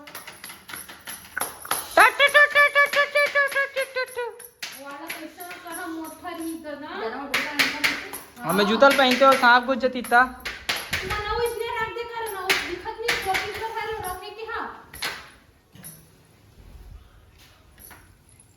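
Hand clapping at home in rural Chhattisgarh, quick bursts of claps mixed with excited voices talking and shouting close by.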